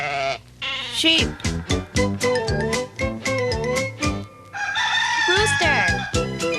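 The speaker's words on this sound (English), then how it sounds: "Rooster." A rooster's crow rings out loudly over a busy stretch of rhythmic music with bleating, animal-like calls.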